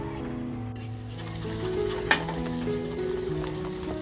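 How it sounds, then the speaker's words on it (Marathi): Homemade ground masala of dry coconut sizzles steadily in oil in a pan, with a continuous frying hiss and one brief clink of a utensil partway through. "तो आपल्याला याच्यामध्ये खमंग असा फ्राय करून घ्यायचा आहे"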